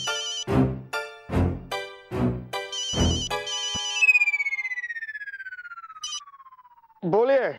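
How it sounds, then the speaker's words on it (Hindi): A phone rings on a redial call: bright electronic tones pulse several times, then a long falling synthetic sweep and a final wavering tone, fairly loud with no talking. "बिल्ला बाबू, फोन रख दिया, कोई बात नहीं, रिडायल करबो।"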